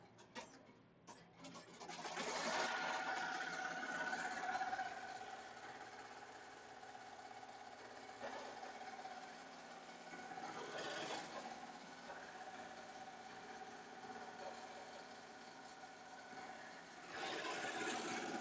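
Melco Summit embroidery machine stitching backing onto a mug rug, a steady close mechanical hum and rapid needle chatter running continuously, with slight swells in intensity.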